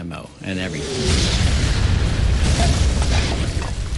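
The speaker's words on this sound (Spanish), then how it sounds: "Cuando le di, explosionó con toda la munición dentro." A tank hit by a shot explodes with its ammunition inside: a heavy explosion bursts out after a brief lull and rumbles on loudly, with deep booming debris and crackle filling the rest of the clip.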